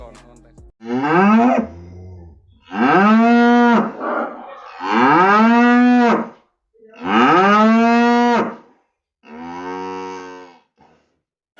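A contest-bred cow moos loudly and close by, giving about five long drawn-out calls separated by short pauses, with no talking over them.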